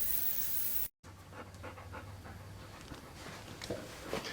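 A dog pants steadily and rapidly up close, a soft rhythmic huffing that runs for several seconds after a brief cut to silence.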